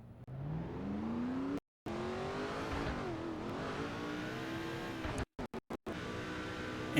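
Truck Series race truck on a qualifying run at Kansas Speedway, a loud engine revving up through gears and rising in pitch, cut by a few brief dropouts, with no talking.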